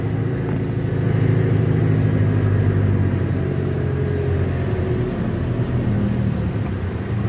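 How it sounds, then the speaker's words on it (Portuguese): A restored 1949 Chevrolet 3100 pickup engine idles in a steady, low rumbling drone, close and even throughout with a slight throb. "vai só na pressão do motor pra você nem acelerar"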